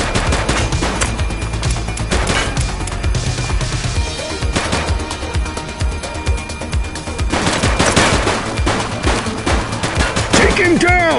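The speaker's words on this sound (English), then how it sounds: "He's shooting!" Sustained heavy gunfire in a police shootout, loud rapid bursts and overlapping shots continuing with brief lulls, close and intense, with some shouting mixed in.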